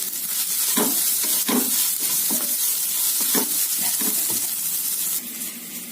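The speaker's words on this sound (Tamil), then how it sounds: "தேங்காவும் ரெண்டு நிமிஷத்துக்கு நல்லா வதக்கி எடுத்துக்கலாங்க" Grated coconut sautéed in a pan for coconut rice, a loud continuous sizzle with rhythmic scraping strokes of stirring throughout.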